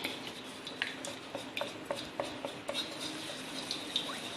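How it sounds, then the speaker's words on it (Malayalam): Honey being mixed into a homemade cough remedy, light rhythmic clinks and scrapes of a spoon against a small container, close and faint. "തേനൊഴിച്ച് നന്നായിട്ട് മിക്സ് ചെയ്യണം."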